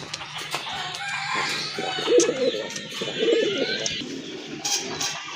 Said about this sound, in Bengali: খুবই ভালো মানের এক জোড়া কবুতর